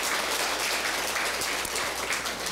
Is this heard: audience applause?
yes